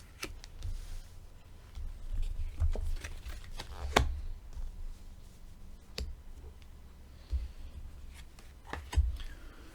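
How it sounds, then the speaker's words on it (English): Angel cards being pulled and shuffled at a psychic tarot reading: soft, close rustling and sharp card snaps and flicks at irregular intervals, quiet overall with no talking. "I do need to pull some angel cards for each story."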